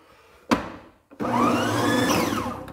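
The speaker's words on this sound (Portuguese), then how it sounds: "Agora eu vou bater a nossa massa na velocidade máxima por 7 a 8 minutos" An electric stand mixer runs at maximum speed, beating chocolate cake batter in a steady, loud whir after a short start and a brief stop, with no talk over it.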